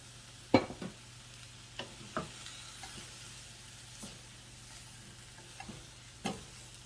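Pork stir fry with the meat put back into the pan, a faint sizzle under a low hum, broken by a few sharp clacks and scrapes from the utensils.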